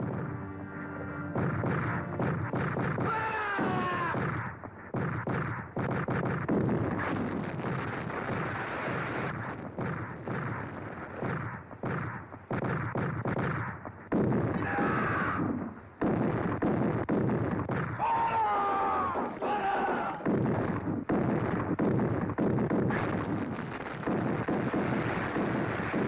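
Ship cannons boom in a naval battle, heavy blasts and rumbling crashes piling up over a loud, continuous din of battle with shouting voices throughout.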